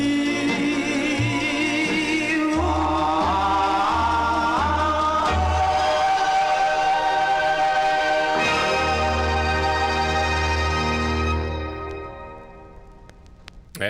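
Doo-wop vocal group's 1960 45 rpm single plays from a record, with a lead voice over backing harmonies and instruments, loud and continuous before fading out near the end.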